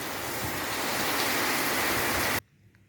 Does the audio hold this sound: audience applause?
no